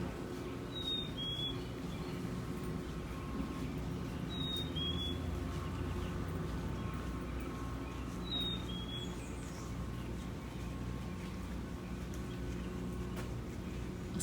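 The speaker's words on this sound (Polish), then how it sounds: "słuchać mojego ulubionego ptaka, który nie wiem jak wygląda, ale gwizda na wszystko" A bird whistles short, bright two-note calls three times at spaced intervals, fairly distant, over a low steady outdoor rumble at Starved Rock State Park.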